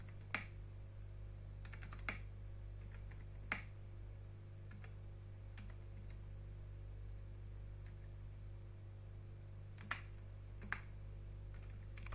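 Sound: typing numbers on a computer keyboard

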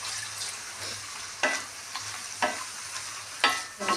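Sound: banana stem pieces added to the pan and stirred

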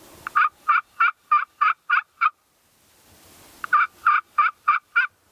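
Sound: turkey call device imitating turkey gobble

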